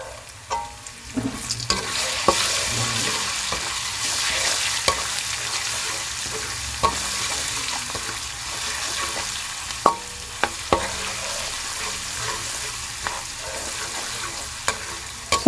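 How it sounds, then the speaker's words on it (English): Tomato paste frying in a pan for spaghetti and meatballs, a steady soft sizzle broken by occasional scraping stirs and clicks of the spoon against the pan. "So I'm going to allow the tomato paste to fry a bit."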